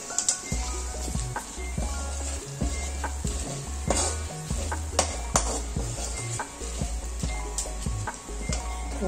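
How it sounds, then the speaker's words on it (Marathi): Spoon stirring chili powder and onion masala into besan (gram flour) batter for thapiv besan vadi, with repeated scraping and clinking against a bowl over a faint sizzle, no talking. "सर्व मिक्स करून घ्यायचं"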